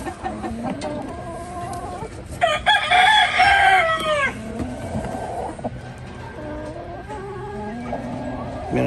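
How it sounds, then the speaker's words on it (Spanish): A Silver Laced Wyandotte rooster crows once, loud and close, amid scattered clucking from other chickens and a steady background hum. "Es el gallo que nos encargaron."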